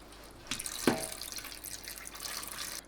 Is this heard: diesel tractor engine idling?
no